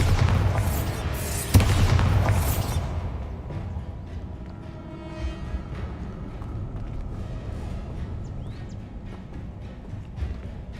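A Bombarda blasting spell goes off in Hogwarts Legacy: one sharp, loud blast over a rumbling bed, then a fading low ambience with no further bursts.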